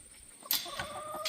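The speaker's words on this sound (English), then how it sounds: "4 hens and a rooster" Faint clucks from four hens and a rooster and a few short fowl calls nearby, quiet and scattered, with no one talking.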